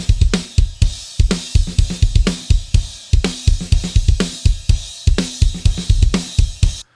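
A dry, close-miked multitrack drum kit plays a steady groove: punchy kick, crisp snare, toms and ticking hi-hats, clean and tight with no room ambience.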